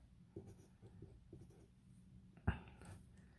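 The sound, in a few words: writing force labels on a physics diagram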